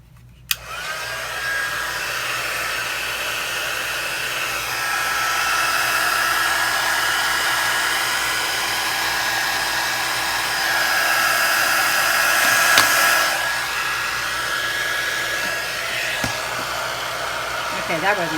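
A hair dryer blows a steady, loud whir while drying Distress Oxide ink on alcohol paper, with a clunk at the start and a faint shift in pitch partway through.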